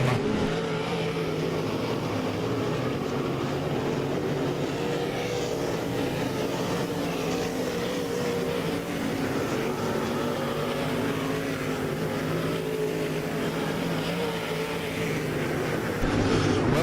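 Dirt track race cars running laps on an oval speedway at Lake Ozark Speedway, a continuous loud roar of several engines droning and revving at a distance throughout.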